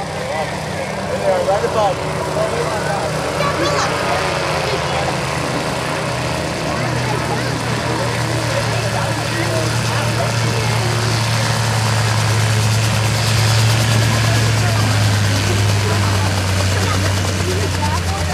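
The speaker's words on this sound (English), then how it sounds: "as Chris taxis off" An Army Huey helicopter, flown by a Vietnam-era pilot, taxis at a rotorcraft festival, its engine and rotor producing a steady, loud, low drone and whine throughout, with a public-address announcer talking over it.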